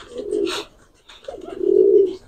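A pigeon coos nearby in two low, throaty phrases separated by a brief pause, loud and clear with no talking.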